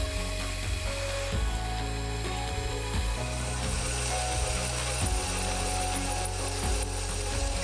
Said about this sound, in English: the pivot screw hole positions were drilled all of the way through with the tapping drill size for the screw thread